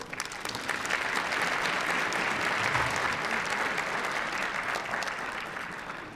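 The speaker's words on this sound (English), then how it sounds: "Let's give Attorney Brooks a round of applause." A banquet audience at an annual awards evening gives a round of applause for an honoree, Attorney Brooks: full, sustained clapping that swells quickly, holds steady, then begins to taper.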